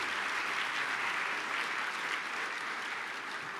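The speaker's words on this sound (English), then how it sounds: "Let's give her another round of applause." An audience at a political campaign training event gives a round of applause, a continuous, even roar of many hands clapping at a steady level from start to finish.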